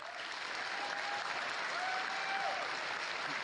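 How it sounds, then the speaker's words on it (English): Sustained applause from a large audience at a gaming fanfest keynote, steady and dense throughout, loud and close, with no talk over it. "Applaud him again."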